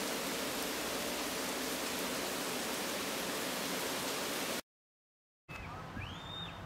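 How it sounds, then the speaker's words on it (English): Steady rain falls in Guam while the sun shines, a dense, even hiss that runs loud and unbroken for several seconds, cuts to silence, then returns quieter with faint chirps over it. "But as you can hear, it's raining."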